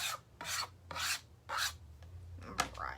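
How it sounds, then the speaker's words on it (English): Old paste being scraped off a surface: five rhythmic rasping strokes, close and quiet, with short pauses between them and no talking. "I'm just scraping off all this old paste."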